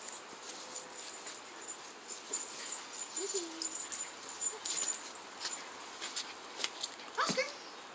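Dogs whimper and wheeze softly nearby over steady background noise, with a short louder yelp near the end.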